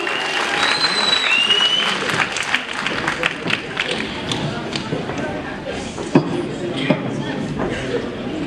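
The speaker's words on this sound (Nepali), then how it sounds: "कृपया एकचोटि यहाँको माझबाट जोडदार ताली" An audience at a teen Sherpa pageant grand finale claps in a sustained round of applause, dense at first and then thinning into scattered claps, with a voice speaking over it.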